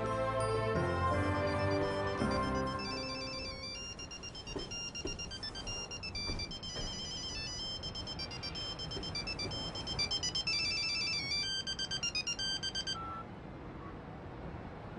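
A melodic electronic telephone ringtone plays its repeating tune steadily for the full length, moderately quiet, with no talking over it.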